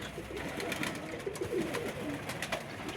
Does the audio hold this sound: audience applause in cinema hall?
no